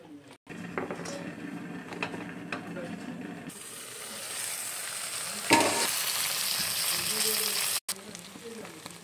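Fish paturi wrapped in leaves fries in oil in a pan, a steady close sizzle with occasional scraping and clicking handling sounds, growing brighter and louder partway through.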